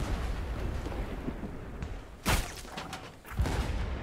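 Ship cannons fire in the pirate naval video game Blazing Sails: two loud, booming blasts about a second apart, rising out of steady background game noise.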